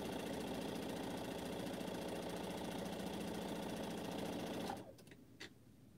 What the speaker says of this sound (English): And then I got to sew on my chain off piece because now I got to trim.